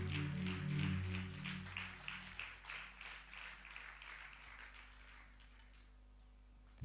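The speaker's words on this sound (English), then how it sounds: "And everyone say a mightier hand clap" A church congregation claps together in a dense burst of hand claps that gradually thins and fades over several seconds, with a low hum underneath.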